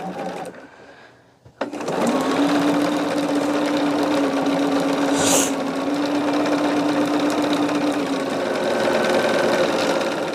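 A sewing machine stitching rows of a Christmas gnome quilt pattern, starting after a short pause and then running as a loud, steady whirring buzz for several seconds.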